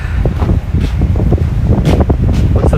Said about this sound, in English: It seems to be gusts of wind, but I don't think it's as windy.